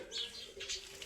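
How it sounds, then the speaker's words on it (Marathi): Sparrows chirp faintly near a home in the morning, giving a few quick, high twitters within about a second. "चिड्या तर करू राहिले चिव चिव"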